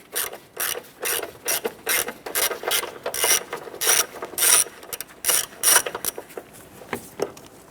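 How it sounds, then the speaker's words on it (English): Ratchet wrench with an 8mm socket and extension loosening the battery hold-down bolt on a Ford Ranger, giving a rapid series of close, crisp clicking bursts in a steady back-and-forth rhythm. "Using an 8mm socket and extension, we're going to go ahead and remove this bolt here."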